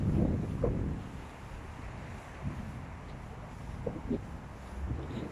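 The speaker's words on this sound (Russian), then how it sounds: "О, ветер подул." Wind gusts rumble in low buffeting bursts across the microphone, steady and close, with no voices.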